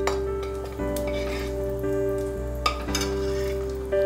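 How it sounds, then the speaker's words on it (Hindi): Whole garam masala spices, such as cinnamon, fry in ghee for a mushroom and pea dish, giving a continuous close sizzle with occasional utensil clinks and scrapes against a steady hum. "अब हम इसी घी में थोड़े गरम मसाले डालेंगे, जैसे कि दालचीनी जो हमने ली थी,"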